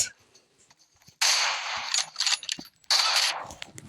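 Gunfire in the video game PUBG: two loud, sharp bursts of shots, each followed by a decaying crackle, with quieter game ambience between them and no talk.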